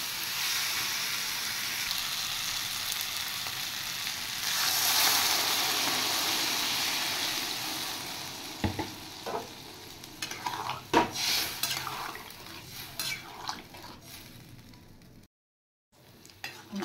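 Fried potatoes and soybean chunks stirred in a pan, a soft continuous sizzle with scattered scraping and clinks, then a brief pause near the end.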